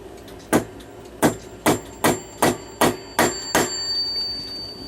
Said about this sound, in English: Take a little hammer.